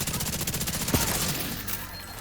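Rapid bursts of gunfire from The Division 2 video game fire in a fast, steady rhythm across the whole stretch, loud and close, with a sharper single crack near the middle.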